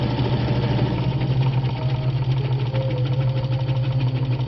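A vintage Atlas sewing machine stitches in reverse with a long stitch on heavy fabric, giving a steady, close mechanical whir with a constant low hum and rapid needle rhythm throughout.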